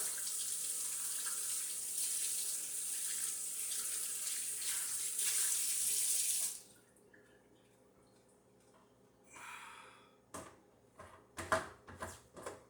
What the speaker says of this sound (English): Rinse it with hot water.